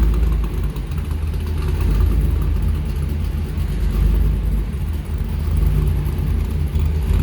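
Rumbling exhaust of a 1957 Chevrolet Bel Air two-door hardtop restomod idling close by, a deep steady low-frequency burble with slight lope and no speech.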